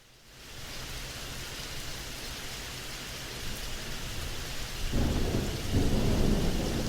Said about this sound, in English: Here's Hilton Head Thunder.